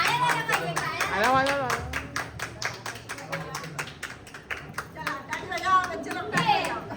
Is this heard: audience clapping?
yes